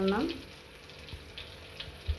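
Fish sizzles quietly in a hot pan, a soft steady crackle with a few faint pops, after a brief voice at the start.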